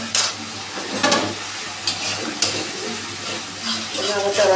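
Tomato paste with sugar frying in oil in a pan, a soft continuous sizzle with occasional stirring scrapes, close and moderately loud, with faint talking over it.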